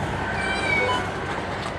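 A cat meows once, a brief wavering cry near the start, inside a long-abandoned house against a dense, steady background noise.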